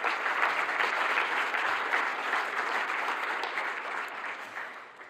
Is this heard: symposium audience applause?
yes